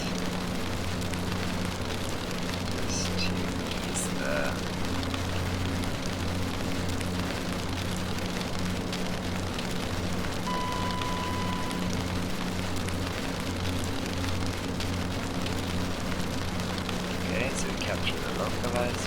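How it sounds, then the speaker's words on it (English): Heavy rain drums loudly and continuously on a Q400 turboprop airliner cockpit during an approach in a flight simulator, a dense steady roar over the low engine hum. "It's very loud rain."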